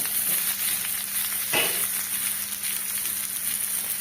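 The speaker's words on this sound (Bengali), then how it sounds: "মোটামুটি ভালো করেই এঁচড়গুলো একদম পুরো ভেজে নেব।" Young jackfruit pieces deep-frying in oil, a continuous bright sizzle with a single sharp clink of a utensil midway and a faint steady hum beneath.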